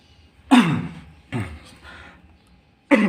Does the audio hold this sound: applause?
no